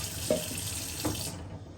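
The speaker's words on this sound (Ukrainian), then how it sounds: "Я беру, включаю воду" Tap water runs from a kitchen faucet while a jar is rinsed during kombucha care, a steady close splashing stream with a couple of brief clinks, tapering off at the end.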